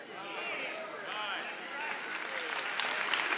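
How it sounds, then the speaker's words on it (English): An audience at a religious gathering marking the Holy Day of Atonement claps and applauds continuously, a dense steady patter with raised voices mixed in, sustained throughout at moderate loudness. "You should give God a hand clap of praise because he has come to end this, all of it."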